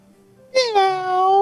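During a tabletop Dungeons & Dragons session, a person's voice imitates a cat with a single close, drawn-out meow that rises sharply, then slides down and holds.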